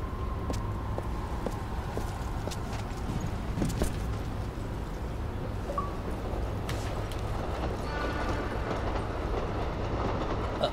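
A train rolls along in the video game Turning Point: Fall of Liberty, with rhythmic clickety-clack of wheels over rails and a steady rumble running throughout, plus occasional clanks and a faint tone.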